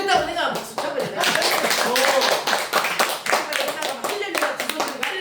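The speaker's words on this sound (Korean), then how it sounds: "잘했다고 내가 박수 쳐버려." A group of people claps in a fast, steady burst lasting several seconds, loud and close, with a voice speaking over the applause at the start.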